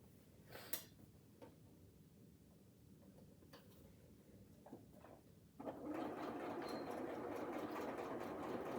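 A sewing machine stitches a pillow cover. Soft ticks and handling noises come first, then a steady, fairly quiet whirring run begins partway through and continues to the end.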